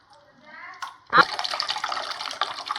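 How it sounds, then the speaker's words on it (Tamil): Tamarind solution and a little water are poured into a village-style jilebi fish curry cooking in a pot. A sudden splash opens a steady, close liquid pour with no talk over it. "புளி கரைசல் அதோட கொஞ்சம் தண்ணி சேர்த்துக்கலாம்."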